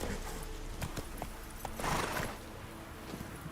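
Muffled horse hoofbeats in The Witcher 3: Wild Hunt, clopping along at a steady walking rhythm over a constant background hum, with a soft horse snort partway through.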